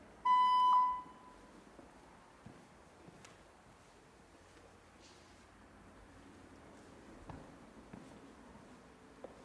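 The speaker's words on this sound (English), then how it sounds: "We'll wait for the beep." A single loud electronic beep from a balance-testing machine opens the stretch, steady for about a second, then a quiet room with faint soft rustles follows.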